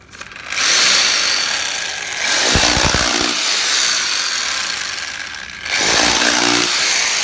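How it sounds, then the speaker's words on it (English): A Bosch hammer drill bores holes with an 8 mm bit, loud and close, a sustained high whining roar in two long bursts separated by a brief rattling pause. "For all you tradies out there, we're using the Bosch. It's a good hammer drill."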